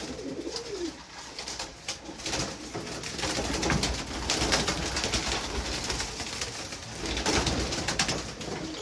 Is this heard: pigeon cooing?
yes